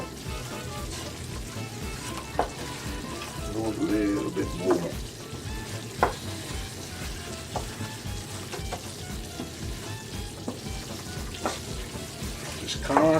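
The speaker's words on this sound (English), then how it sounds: "Just constantly stirring it." A roux for Cajun chicken and sausage gumbo is stirred constantly in a pot, with a low continuous sizzle and soft scraping strokes, plus a few sharper clicks of the utensil, under a brief spoken remark.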